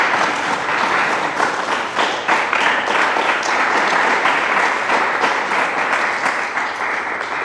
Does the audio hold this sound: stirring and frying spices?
no